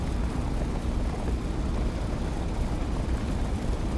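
A P-47 Thunderbolt fighter's radial engine in a video game flight sim, rolling down the runway on its takeoff run, a steady loud broadband roar that holds even throughout.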